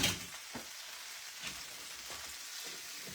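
Spinach wilts in a hot frying pan with a soft, steady sizzle and a few light stirring scrapes, heard close and quiet with no talking.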